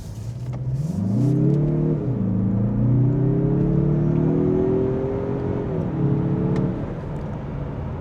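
Mazda CX-30 Turbo crossover engine rising in pitch as it accelerates hard through a corner, a loud steady drone with a dip around two seconds, then easing off near the end, no talking.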